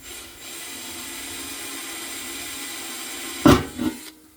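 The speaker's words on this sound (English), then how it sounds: "We're going to drill a pilot hole." A power drill's steady low motor whine runs for a few seconds, then a brief louder grinding burst as the bit bites into an ammo can for a pilot hole, before stopping.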